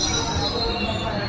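The Balurghat Express rolls along the rails with a continuous, loud rumble and a high wheel squeal running throughout, heard from on board.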